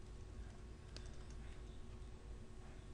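Soft, quick keystrokes tap on a computer keyboard while code is typed, faint and steady against a low background hum.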